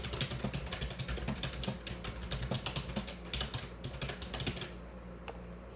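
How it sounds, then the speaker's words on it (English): Someone types a note on a computer keyboard with a fast, steady run of close, crisp key clicks that stop just before the end. "and you type what you want."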